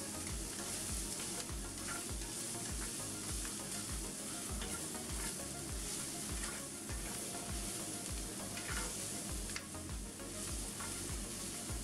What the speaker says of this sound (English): So going in now is 250 grams of chestnut mushrooms, which they provide.